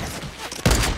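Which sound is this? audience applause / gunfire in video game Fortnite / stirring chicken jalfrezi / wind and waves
gunfire in video game Fortnite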